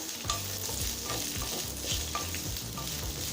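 Small onions sautéing in a pan for curry leaf chutney, a loud, steady sizzle with rhythmic stirring scrapes running throughout, close by and with no talking.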